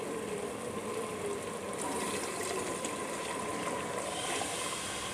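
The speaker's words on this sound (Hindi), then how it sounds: "अब मैं इसमें पानी ऐड करूँगी।" A steady rush of water pours continuously into a pot of kidney bean curry, close and moderately loud, with no voices.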